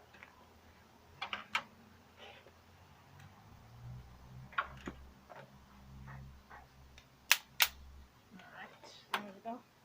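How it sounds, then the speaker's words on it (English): An electric mosquito racket zapper gives a couple of sharp, snapping cracks in quick succession, with scattered smaller ticks around them, heard against a quiet room with faint low-level murmuring. "we here like to call it a zapper, but it's more like a mosquito racket"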